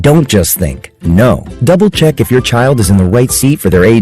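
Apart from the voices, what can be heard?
None of the usual background noises is heard.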